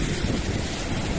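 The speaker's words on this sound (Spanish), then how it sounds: "y con estas olas maravillosas." Ocean waves roll in at Playa los Pinos, a Gulf of Mexico beach with black volcanic rocks in Veracruz, making a loud, continuous close-up wash with wind buffeting the microphone.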